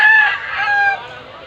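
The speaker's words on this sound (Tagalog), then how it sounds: "yan puro mga manok niyan" A rooster crows loudly and close, one drawn-out strained call that tapers off.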